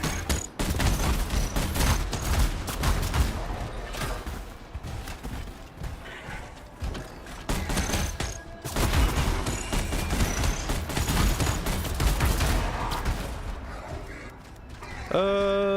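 Grenade launchers fire smoke grenades in a sustained firefight in the video game Anthem, a busy layered stream of blasts and pops with brief lulls. Near the end it gives way to a rising electronic tone.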